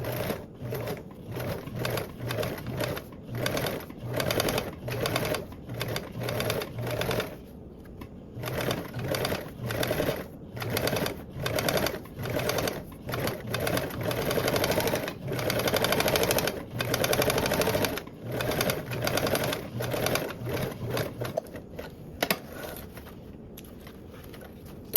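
Sewing machine top stitching a duffle bag panel with a 1/8 seam allowance, close and loud, running in quick rhythmic bursts and longer steady stretches with brief pauses.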